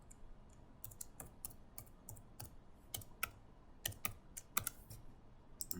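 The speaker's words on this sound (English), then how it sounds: "Type the device password." Quiet, quick keystrokes tap out a password on a computer keyboard, an irregular run of light clicks close by with no talking.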